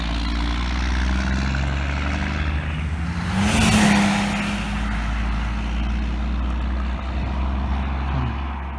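A truck hauling a Massey Ferguson 1105 tractor pulls away with a loud, close diesel rumble, the engine swelling briefly as it moves off, then settling into a steady drone.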